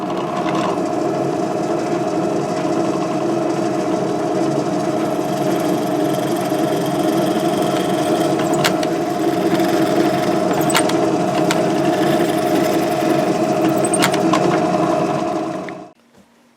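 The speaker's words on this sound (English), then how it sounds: "we can drill those holes" A drill bores bolt holes through a headless guitar body, giving a steady, continuous motor whine with a few sharp bites into the wood. It runs loud and unbroken for about fifteen seconds, then cuts off.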